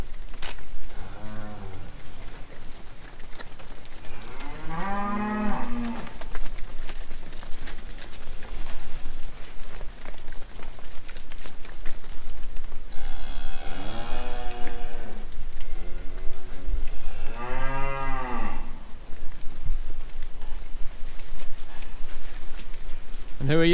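Cattle on a mountain pasture moo loudly and close by in several long, drawn-out calls, some overlapping, against steady outdoor background noise with a little talking nearby.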